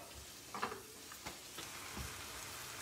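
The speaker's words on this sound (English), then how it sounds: "the onion is stuck into the oil, is stuck into the pan" Onion frying in oil in a pan for carne alla pizzaiola, a faint, steady sizzling hiss with a few soft crackles and stirring bumps.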